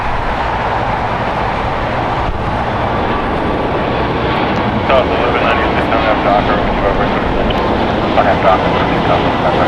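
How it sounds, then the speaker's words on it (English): A Turkish Airlines Boeing 787-9 Dreamliner, arriving from Istanbul on the north side at LAX, gives a steady, loud broadband jet roar that holds throughout, with a voice speaking over it. "Turkish Airlines Flight 8 arriving on the north side"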